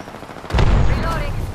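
Sudden burst of loud gunfire and explosive booms in Apex Legends, a heavy rumbling volley that erupts and continues densely through the end.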